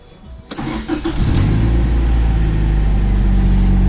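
A Honda Integra running a base map on 450s cranks briefly and then fires on the first turn of the key, settling into a loud, steady idle close by.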